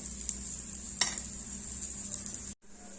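Veggie pancake frying in a pan, a quiet steady sizzle with a couple of faint clicks, cutting off abruptly near the end.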